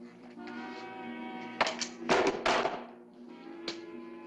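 Several heavy metallic thunks and clatters as guns are set down on a wooden desk, a cluster of knocks in quick succession followed by one lighter tap, all over a faint background hum.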